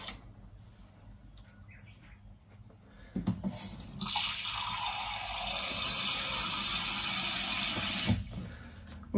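Filtered water starts running from a tap after a few seconds, a steady hissing stream filling a cup, then cuts off near the end.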